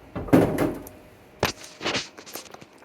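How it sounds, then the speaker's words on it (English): A door being swung open and propped with a doorstop at a university computer science facility, giving a muffled thump followed by a couple of softer knocks and scrapes, close by and brief. "a doorstop, like that one, is used to hold our door open"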